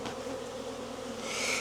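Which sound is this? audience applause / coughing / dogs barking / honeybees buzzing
honeybees buzzing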